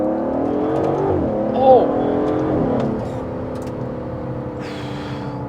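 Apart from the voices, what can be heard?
Aston Martin DBS Superleggera V12 accelerating in fourth gear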